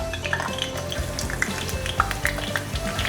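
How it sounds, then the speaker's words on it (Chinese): Wontons deep-frying in a pot of hot oil, a continuous bubbling sizzle up close with scattered crackles and pops and a faint low hum beneath. "油已经热了，把馄饨放进来炸。"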